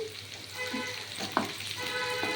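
Grated ginger, garlic and onion paste sautéing in a pan, a steady soft sizzle with occasional stirring scrapes, close and fairly quiet, no talk.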